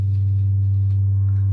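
A steady low G2 sine tone from a tone generator, played through a subwoofer, hums continuously at an even loudness, pure and bassy, with no other sounds.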